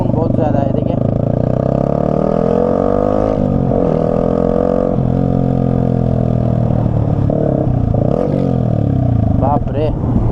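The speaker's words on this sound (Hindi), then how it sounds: "अगर थोड़ा भी एक्सीलरेटर दे रहा हूँ, एग्जॉस्ट का साउंड बहुत ज़्यादा है।" A modified Yamaha R15 V3 motorcycle with a loud aftermarket exhaust revs and roars continuously up close, its engine note rising and falling throughout while someone talks loudly over it.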